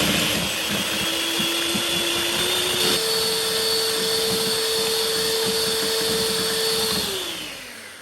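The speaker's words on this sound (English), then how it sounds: "And then whisk this until it's nice and stiff and peaky" An electric whisk beating egg whites with caster sugar whirs loudly and steadily, its motor pitch rising slightly partway through before winding down at the end.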